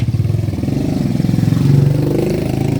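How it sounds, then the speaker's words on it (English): A small moped engine putters close by through narrow city side streets, a steady pulsing mid-pitched drone that swells slightly as it revs. "Got to be careful down these side streets with all the little mopeds"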